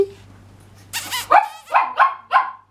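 A small dog gives a quick series of sharp, high yips and barks, close by, after a brief burst of noise.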